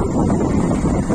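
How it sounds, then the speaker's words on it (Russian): Strong Lodos wind blowing in Turkey, a steady, loud roar buffeting the microphone with broadband rumble throughout and no voices. "Лодос — это название ветра."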